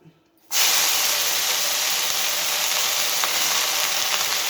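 Mint leaves dropped into a hot pan, a sudden loud sizzle that starts abruptly and holds as a steady bright hiss, close and alone.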